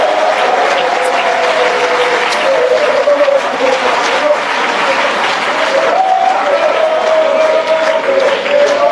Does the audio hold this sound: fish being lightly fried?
no